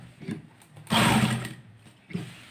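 A sewing machine stitches a Kallidar Punjabi garment in a short, close, loud burst of about half a second, framed by softer handling sounds of the cloth.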